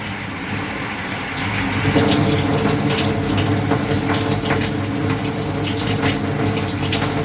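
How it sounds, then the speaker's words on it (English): Sunflower microgreen seeds rinsed under a running tap, a steady close splashing rush of water that swells as the seeds are stirred and shaken. "Rinse it really good."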